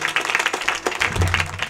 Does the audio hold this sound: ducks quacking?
no